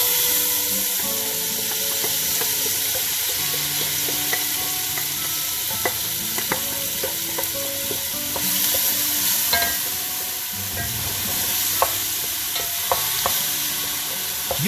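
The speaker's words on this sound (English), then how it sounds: "Give it a good stir fry." Freshly blended curry ingredients stir-fried in a pan with spices for a homestyle chicken curry, giving a loud, continuous sizzle broken by scattered spatula scrapes and knocks, under light background music.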